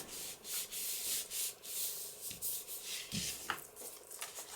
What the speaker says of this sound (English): Run it up the sides, make sure it's nice and even. And burnish it down.